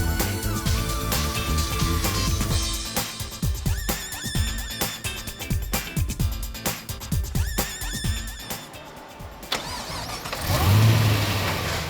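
An HSV W1 car comes through on a factory production line, its engine starting and revving in sharp bursts over clattering, industrial machinery noise, then settling into a lower rumble.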